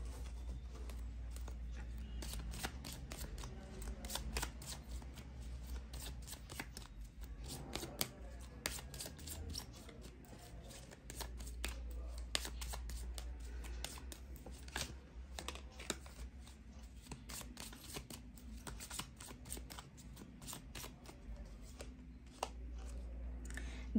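Mini tarot deck being shuffled, a steady run of soft papery riffling and card flicks over a low constant hum, continuing throughout with no talk.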